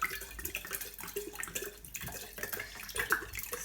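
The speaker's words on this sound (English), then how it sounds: "I'm just going to use some of my filtered water." Filtered water poured into a vessel for making kefir water, an irregular splashing, gurgling stream close by with no talk.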